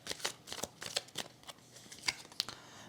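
Tarot cards shuffled and laid out on a table during a reading, a soft run of quick papery riffles and slaps with a few sharper card snaps, close and alone without talk.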